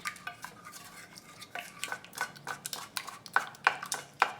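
A utensil clinks and scrapes against a bowl as cookie dough ingredients with vanilla extract are mixed, producing a quiet, irregular series of taps and stirring scrapes up close.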